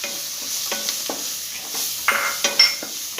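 Green peas stir-fry in a pan for a kappa bonda filling, with steady sizzling under repeated scraping strokes of a spoon, growing a little louder toward the end.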